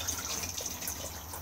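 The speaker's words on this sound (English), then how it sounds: "push the blue button to flush" A caravan cassette toilet flushes, giving a steady gush of running water that holds evenly throughout, close and alone.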